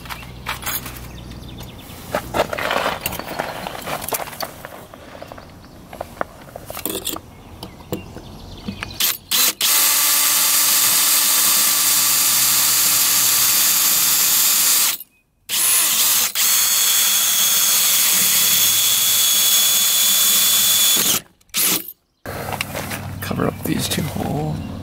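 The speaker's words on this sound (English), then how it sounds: "Now I've gotta drill two new holes here." A power drill bores two new holes in the hull of an old, abandoned fishing boat, running in long loud continuous bursts with brief pauses, after a stretch of quieter handling noise.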